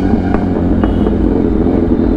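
A Kawasaki Ninja H2R motorcycle rumbles loudly nearby while its exhaust pops in a few sharp bursts over the steady engine noise.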